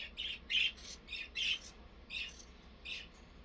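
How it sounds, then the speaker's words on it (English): Loud bird squawks burst out in repeated short clusters, about six harsh calls spread over a few seconds above a steady low indoor hum in a home sewing room. "I'm so sorry, those birds are so loud."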